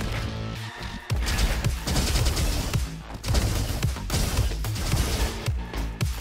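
A Tesla rifle fires in the action roguelike shooter Roboquest, with loud rapid bursts of repeated shots over a dense game soundtrack, continuing for several seconds.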